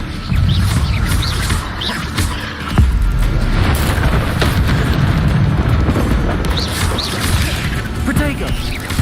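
Expelliarmus spell in Hogwarts Legacy fighting spiders, a loud whooshing burst with a heavy boom and crackling impact under busy combat noise, while voices speak over it.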